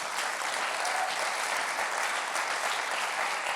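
Church congregation applauding during a sermon, a steady, dense wash of clapping from many hands that holds evenly throughout.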